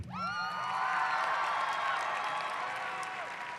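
A graduation commencement audience breaks into dense, sustained applause with some cheering, filling the hall at a steady level throughout.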